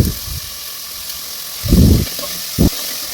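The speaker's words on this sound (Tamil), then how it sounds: "எண்ணெயில் போட்டு வதங்கிறதுக்கு கொஞ்சம் சால்ட்டு போட்டுக்கோங்க" Chopped onions with salt sizzle in hot oil in a pan for a Chettinad chicken gravy, a soft, steady hiss broken by a few low stirring bumps.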